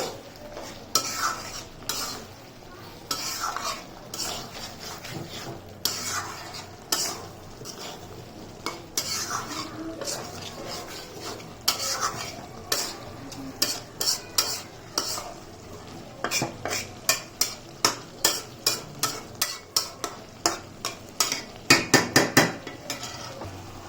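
Beef liver bhuna stir-fried in oil with whole garam masala, steady sizzling under repeated scraping and clanking of a spatula against the pot, the strokes growing faster and sharper toward the end.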